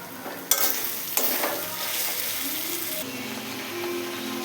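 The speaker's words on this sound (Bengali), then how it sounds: "আর ধনিয়া গুঁড়ো দিয়ে এখন কিছুক্ষণ কষি।" Chicken curry with cumin and coriander powder sizzles and is stirred in a pan, close up, with a few sharp scrapes of the spoon over a steady frying hiss.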